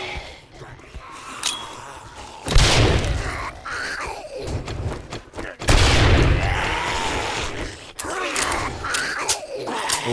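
Grenade blasts in the survival game 7 Days to Die during a horde night, two heavy booming explosions several seconds apart with crackling debris and game noise, a voice groaning and gasping around them.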